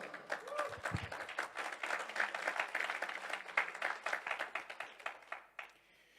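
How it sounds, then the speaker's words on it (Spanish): A church congregation at a New Covenant school gathering claps for the Lord; the applause is moderate and rhythmic with distinct individual claps, then fades quickly near the end. "Dar un aplauso al Señor."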